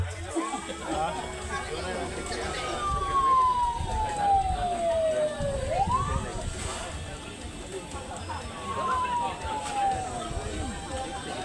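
Ambulance sirens wail as they arrive at an emergency response event, rising and falling tones sweeping over busy background noise, moderately loud and somewhat distant, with people talking throughout.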